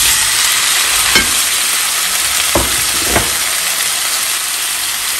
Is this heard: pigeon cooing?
no